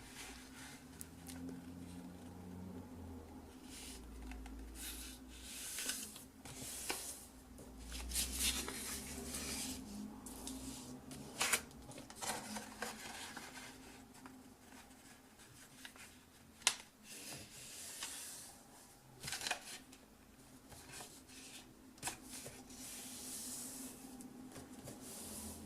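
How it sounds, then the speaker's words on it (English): A sheet of A4 paper is folded in half lengthways and opened out, giving soft intermittent rustles, crisp creasing swipes and small taps against a quiet background, with no talking. "So the first thing you have to do is fold your paper in half lengthways"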